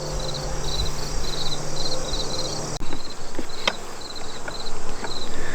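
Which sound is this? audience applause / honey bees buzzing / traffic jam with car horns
honey bees buzzing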